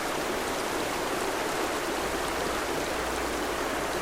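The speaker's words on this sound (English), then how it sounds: "if you come to this fountain here, and use your gather ability, you can obtain water" A city fountain in the Mortal Online video game pours water continuously, a steady, dense, even rush of flowing water with no pauses and no voices over it.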